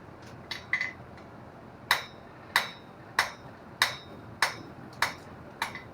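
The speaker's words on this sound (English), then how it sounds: "You'll see my hammer blows are heavy in the back where I've got more material" A blacksmith's hammer strikes hot steel on an anvil while forging a spoon taper, ringing blows at a steady rhythm of about one every 0.6 seconds after a few quicker light taps at the start. The strikes are sharp and clear and fairly close.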